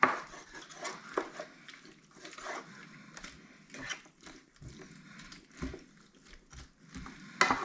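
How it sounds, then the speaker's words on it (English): Beef stock hisses into a hot stir-fry pan for lomo saltado while a utensil scrapes and clinks across the bottom in irregular bursts, close and fairly quiet, with no talking. "Let's go ahead and deglaze with just a bit of beef stock. Make sure you scrape up those bits off the bottom."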